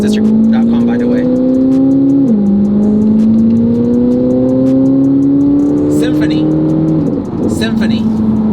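A modded Corvette C8 ZR1 with high-flow cats and a carbon competition exhaust revs loudly nearby, its engine note climbing in long sustained pulls with sharp blips between them.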